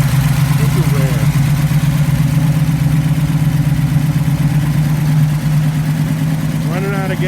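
A Camaro SS/RS 396 big-block V8 runs loud and close with a steady low rumble as it burns the last of its old fuel, with someone speaking over it briefly.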